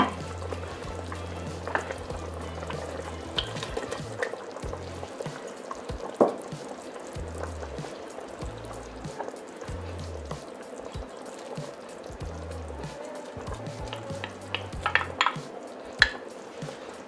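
Peruvian seco de pollo, a chicken stew, simmers and bubbles in a pot with soft continuous burbling and occasional pops and utensil clinks, quiet and steady without talk.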